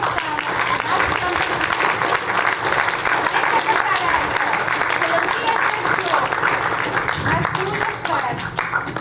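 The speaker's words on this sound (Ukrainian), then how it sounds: "давайте оплесками запросимо пані" At a Ukrainian school's last-bell celebration, an audience applauds to welcome bandura performers. Full, continuous clapping from a hall crowd runs throughout, with voices mixed faintly into it.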